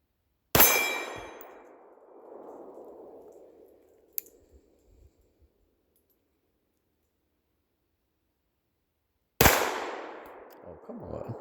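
Two loud, sharp gunshots from a GForce Chronicle 1911 9mm pistol fired one-handed outdoors, spaced several seconds apart, each with a ringing decay and echo, a faint metallic click between them.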